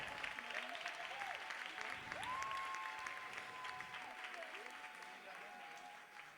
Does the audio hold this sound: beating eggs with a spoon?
no